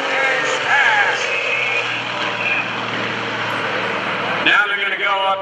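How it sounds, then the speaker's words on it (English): Aerobatic aircraft at a 2014 Greenwood Lake airshow, a 415-horsepower Pitts Model 12 biplane and an MX2, droning loud propeller engines with shifting pitch and a close surge near the end, under a commentator's voice. "Coming in from the right, Greg Connell, 415 horsepower in a biplane, a Pitts Model 12."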